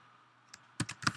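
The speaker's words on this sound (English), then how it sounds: "then you begin typing" A few quick keystrokes on a computer keyboard, soft and close, a short cluster of clicks after a brief quiet pause.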